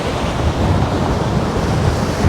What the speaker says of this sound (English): Look at these waves coming out over here.